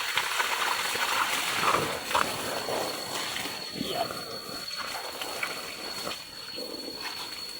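Water from a forest source gushes under strong pressure through a hose, a steady broadband rush of spray and splashing with brief knocks of handling the hose, close and continuous throughout.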